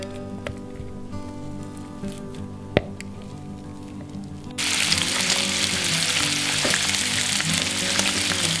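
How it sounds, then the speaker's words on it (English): Bacon frying in a pan, starting as a soft crackle with an occasional pop, then bursting into a loud, dense, steady sizzle about halfway through that carries on to the end. "Got the bacon cooking over here"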